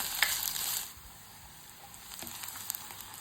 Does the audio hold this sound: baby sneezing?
no